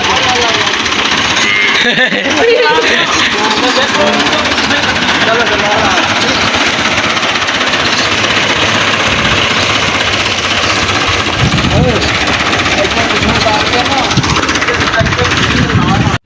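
A loud, steady tractor engine rumbles close by throughout as it reverses with a trolley, with a heavy low throb and knocking vibration, while voices talk faintly beneath it.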